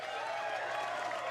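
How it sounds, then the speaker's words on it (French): An audience applauds André, the evening's star, at a show with continuous dense clapping and crowd noise throughout, steady and fairly loud. "Applaudissez bien fort la star de la"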